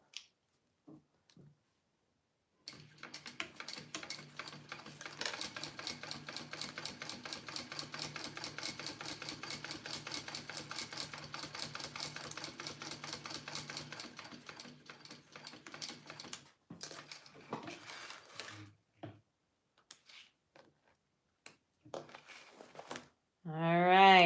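A sewing machine top-stitches a fold in a fabric wallet, running as a fast, even stream of soft mechanical clicks for about fourteen seconds, faint and close, followed by a few scattered taps and handling noises.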